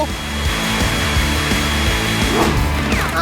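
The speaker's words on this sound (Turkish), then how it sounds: "örneğin saç kurutma makinesiyle ısıtmanız gerekiyor" A hair dryer runs steadily throughout, a loud continuous whirring blow heard close up while cereal grains are warmed, with some clatter over the hum.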